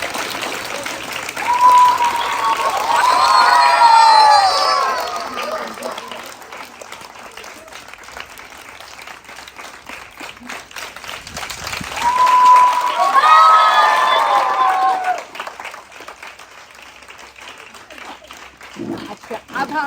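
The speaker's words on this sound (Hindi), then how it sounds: "तो इन सब बच्चियों के लिए बहुत ज़्यादा तालियां" An audience claps and cheers for a group of young girls at a gathering, in two swelling bursts of crowd noise with excited voices and whistles mixed in, easing between them.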